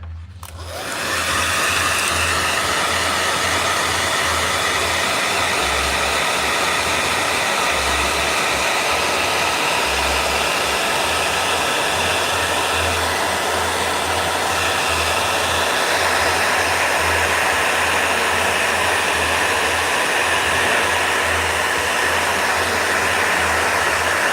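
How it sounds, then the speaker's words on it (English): A hair dryer blows continuously at close range, a loud steady whoosh with a low motor hum that barely changes for the whole stretch. "Blow dryer."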